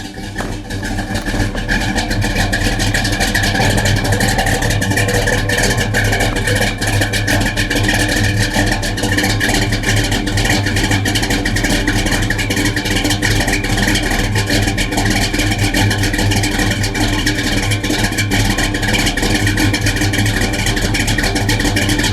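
A loud, rumbling 1970 Buick GS 455 Stage 1 engine with a mild cam runs close by, holding a steady, throaty, slightly lumpy note for a long stretch without pauses.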